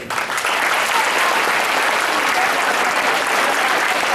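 An audience claps together at a motivational speech, a dense, even wash of applause that holds steady at full strength from start to finish with no voices over it.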